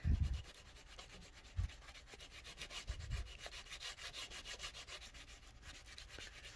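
Rhythmic rubbing of sandpaper across a wooden plaque, sanding off the finish, a steady back-and-forth scratching with a few soft knocks, close and quiet with no voices.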